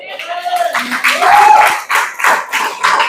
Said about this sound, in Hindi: एक बार तालियां बजा सकते हो डॉक्टर साहब के लिए